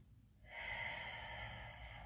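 Ujjayi yoga breath drawn through a constricted throat, a close, airy rushing hiss that starts after a brief quiet moment and holds steadily for about a second and a half.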